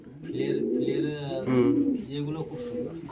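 A pair of female fieldback pigeons coo steadily and close by, their low, rolling calls overlapping and swelling in loudness midway before easing off.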